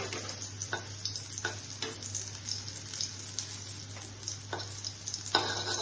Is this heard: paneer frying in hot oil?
yes